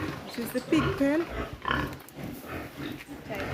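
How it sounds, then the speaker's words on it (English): Pigs grunt in a pig pen at an animal farm and nature reserve in Jamaica, with short snorting grunts close by, mixed in with people talking throughout. "This is the pig pen."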